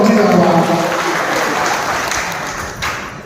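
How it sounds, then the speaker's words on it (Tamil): A crowd applauds sanitation workers at a Pongal gift distribution in Thiruvathipuram, the clapping steady and loud for a few seconds before easing slightly. "எல்லாரும் ஒரு இந்த ரெண்டாயிரத்தி இருபத்தி மூணு செஞ்சதாக துப்புரவுடைய ஒரு கைத்தட்டு போனோம்"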